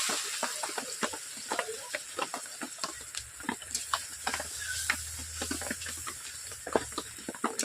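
Chilli and turmeric mixed in water poured into a hot pan for a Rui fish curry with potatoes, giving a sustained hiss studded with quick, sharp crackles and ticks throughout.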